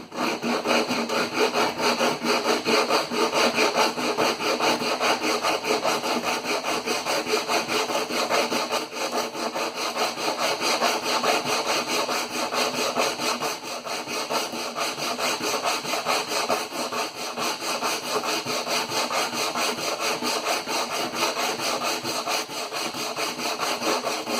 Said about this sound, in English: This is 40 grit sandpaper, so it's pretty aggressive, but I think it's necessary.